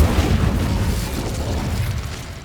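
An Incendio fire spell in Hogwarts Legacy erupts as a single loud, close fiery burst with heavy low rumble, fading slowly over a couple of seconds, no voices.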